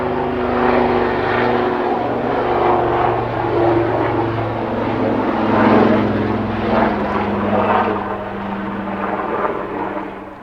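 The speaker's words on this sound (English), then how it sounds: "I'll continue it when this noisy aeroplane, helicopter, it's the Coast Guard," A loud Coast Guard helicopter drones steadily overhead with a throbbing rotor hum, swelling slightly and then easing as it passes.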